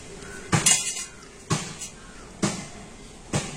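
Four sharp knife taps striking a board while rolled jackfruit pitha dough is cut through the middle, evenly spaced about a second apart, close and clear.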